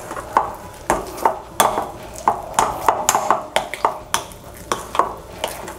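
A utensil works butter into heavy bread dough for Australian-style bread in a bowl, giving a run of sharp, regular knocks and scrapes about twice a second, close and clear with no voices.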